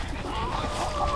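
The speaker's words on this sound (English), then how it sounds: "now we're watching the chickens eat the minnows" Chickens cluck and murmur close by while pecking at minnows, a busy, continuous low chatter of fowl with a little background noise.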